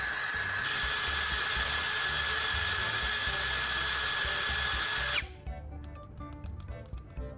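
An electric drill spins a carbon rod against sandpaper, giving a steady, loud whirring grind for about five seconds before it cuts off abruptly, leaving quieter scraping and clicks.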